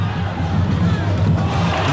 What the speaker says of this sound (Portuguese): faz festa a torcida do Peixe na Vila